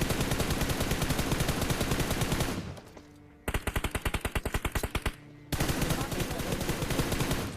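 Video-game automatic gunfire rattles in long, loud, close bursts, stops for a moment, then resumes as rapid distinct shots before another dense burst.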